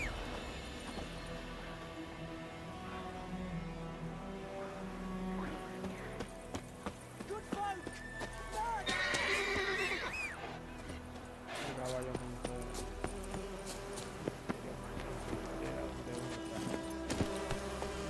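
Horse hooves clip-clopping at a quick gait in The Witcher 3, a steady rhythmic patter with a brief neigh mid-way, set among game music, ambient insect buzz, and a voice speaking over it.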